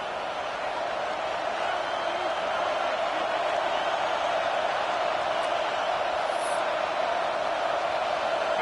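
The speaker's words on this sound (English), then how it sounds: "with this place rocking, the crowd forces a false start" A stadium crowd at a Tigers football game roars steadily and loudly throughout, a dense wall of cheering with no break.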